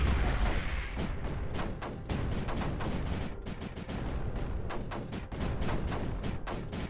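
Rows of cannons firing in the strategy game Creeper World 4, a rapid, uneven volley of short punchy shots that keeps on without pause, with no talking.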